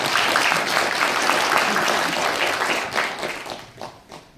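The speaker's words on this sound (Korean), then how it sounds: "김영환을 위해서 한번 격려의 박수 한번" A crowd at a Korean party rally applauds to encourage a politician, a dense, loud wash of clapping held steady for several seconds before it tapers off.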